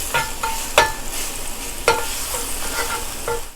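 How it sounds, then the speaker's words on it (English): Garlic toasting in vegetable oil in a pan, a steady bright sizzle with several sharp spatters and stirring scrapes spread through the few seconds, close and fairly loud. "I'm just going to toast my garlic in my oil."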